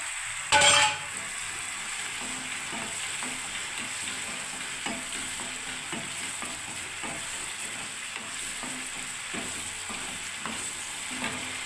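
Green chilli and garlic paste fries in a pan for a Bengali capsicum dish, with a steady close sizzle, a brief loud clatter near the start and light stirring scrapes throughout.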